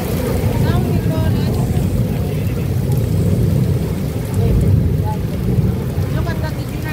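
Heavy rain pours during a strong typhoon on a Causeway Bay road in Hong Kong, a steady loud roar throughout with low rumbling that may be thunder or traffic, and voices talking over it.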